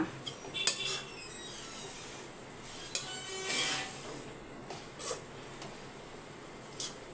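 A metal spoon clinks and scrapes against a pan while grated coconut is stirred into a cooking vegetable stir-fry, several sharp taps and scrapes spaced out over quiet background.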